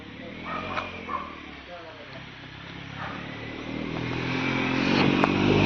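A motorcycle engine on a hill road in Thrissur grows steadily louder toward the end, while voices talk over it.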